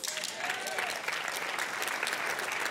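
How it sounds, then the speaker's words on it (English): An audience at a church sermon claps in dense, sustained applause, loud and continuous, with a voice speaking faintly underneath. "Please clap if you got it."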